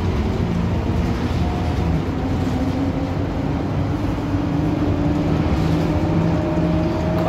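Steady low engine drone and road rumble inside an Optare Solo M880 SE bus with a Cummins engine, continuous and even throughout, with no talking.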